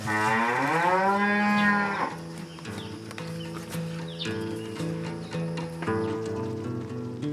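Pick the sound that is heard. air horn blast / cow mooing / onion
cow mooing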